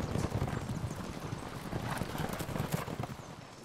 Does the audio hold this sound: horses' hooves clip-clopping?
yes